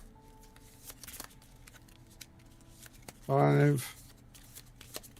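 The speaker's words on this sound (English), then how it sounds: "Shuffle my deck." A deck of cards is shuffled during a co-op Slay the Spire board game: one brisk riffle burst, close and loud, set among faint table handling and a brief spoken word.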